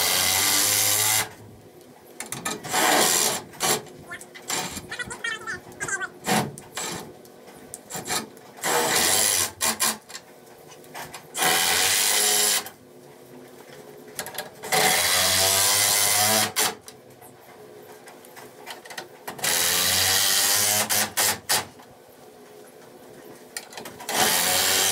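A power drill boring holes in wood, repeated loud whining bursts of a few seconds each, separated by brief quiet gaps, close and harsh with rasping grind.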